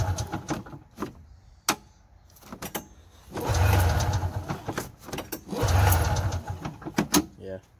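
An old snowmobile engine, its carburetors needing cleaning, is cranked in two long grinding bursts that fail to catch. Clicks and handling noises come between the attempts, and a voice can be heard.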